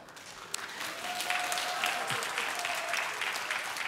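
Applause from a congregation at a church early-morning revival service, a steady dense wash of clapping lasting throughout, moderately distant, with a faint sustained tone running underneath.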